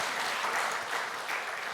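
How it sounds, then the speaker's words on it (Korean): A church congregation applauds during a Sunday worship service, a dense steady wash of many hands clapping together at close range, with no pauses. "하나님께 우리 영광의 박수, 이분들을 격려하는 박수 한번 드립시다"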